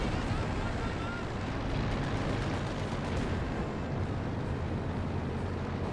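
Mortar and artillery fire rumbles through a Company of Heroes 2 battle, a dense continuous roar of blasts and booms that stays loud throughout, with a commentator talking over it.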